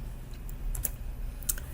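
Typing on a computer keyboard while working in 3D modeling software: a few quiet, scattered key clicks over faint room hiss.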